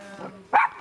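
A single short, sharp dog bark, close and fairly loud, preceded by a faint whine in a cramped indoor room shared by people and two dogs.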